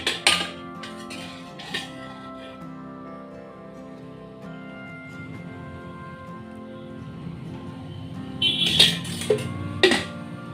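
A spoon clinks and scrapes against a bowl as meal maker puff filling is mixed firmly into a stiff mass, with sparse knocks early and a cluster of sharper clinks near the end.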